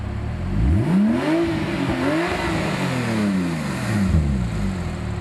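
A 2012 Porsche 997.2 911 Turbo S with a full Fabspeed Supersport X-pipe exhaust revs hard several times, its loud, deep engine note rising and falling close by, with no talk.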